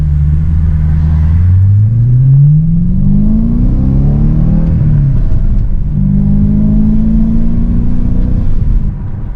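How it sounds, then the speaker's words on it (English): A BMW E92 M3 V8 rumbles through its exhaust while driving, a loud, deep, close burble whose pitch rises and falls as the engine revs and settles, with no talking. "I love hearing this glorious V8 just rumbling"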